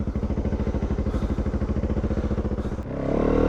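A 2019 Yamaha WR250F dirt bike with about 32 hours on it idles with a steady, rapid, close thumping beat that holds evenly, then swells into a louder, rougher roar near the end.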